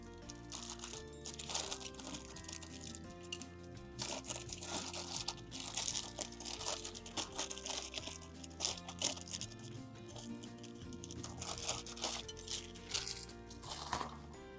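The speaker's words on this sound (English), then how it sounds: "Let's take this out. Comes in a Ziploc bag." A small alcohol stove is pulled from a plastic Ziploc bag, producing repeated close crinkling and crunching of plastic in irregular bursts, fairly quiet, with no talking.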